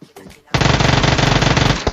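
Gunfire in a video game: a sudden sustained burst of rapid automatic fire, loud and close, continuing for well over a second after a quiet start.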